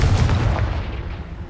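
In Hogwarts Legacy, a Confringo blast curse goes off as a heavy, close booming explosion whose rumble tails away over a second and a half.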